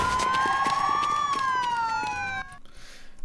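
A police car siren in Mafia II, a loud wailing tone sweeping up then down close by, cutting off abruptly into quieter ambience, with a voice faintly underneath.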